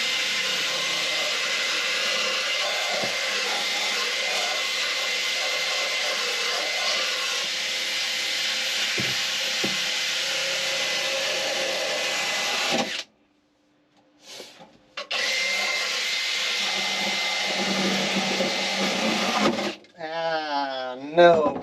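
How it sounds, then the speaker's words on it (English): Power grinding on rusted metal panels inside a 1981 Camaro, a loud continuous abrasive whine that runs steadily, cuts out briefly, then resumes before ending with a few short bursts. "I'm in here doing the grinding around these panel things and just kind of cleaning up the metal enough to get something to weld to"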